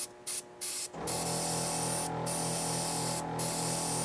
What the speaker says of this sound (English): with low pressure and shooting the paint to make it almost dry as it hits the model